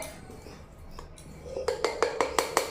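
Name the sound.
spoons scooping smoothie powder, clinking dishes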